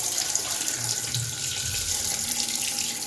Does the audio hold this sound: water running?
yes